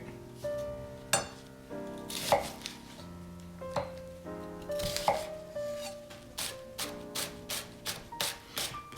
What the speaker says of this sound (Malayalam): ഇതിപ്പോൾ ഞാനിവിടെ 2 ചെറുതായിട്ട് സ്ലൈസ് ചെയ്തെടുക്കാം